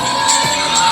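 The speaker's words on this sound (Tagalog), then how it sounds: "Sigaw daw!" A crowd at an evening celebrity show in Jose Panganiban lets out a sustained burst of loud shouting and cheering that fills the whole moment.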